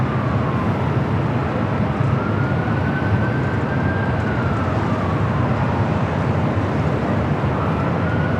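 A retro-livery United Airlines airliner passes at LAX, a steady broad roar with a slowly gliding whine, loud and continuous throughout with no talk.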